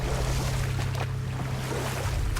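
Steady low rumble of a boat engine moving through water in the video game God of War, with a continuous wash of spray and wind noise and a few faint knocks.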